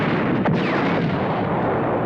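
German artillery fires on tanks at the Dieppe beach landing. A heavy boom lands amid loud, continuous rumbling battle noise that stays dense throughout.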